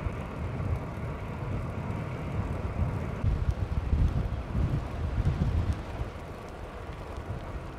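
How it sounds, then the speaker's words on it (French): Wind buffets the microphone of a cyclist on a long-distance ride in a steady, rumbling roar that swells and eases over several seconds, dominating throughout with no talking. "Là, j'ai un vent à peu près favorable"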